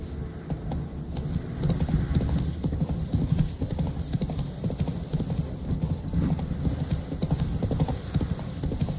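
Roach, the horse in the video game The Witcher 3, gallops in a fast, steady rhythm of hoofbeats, close and continuous, with faint tack jingling underneath.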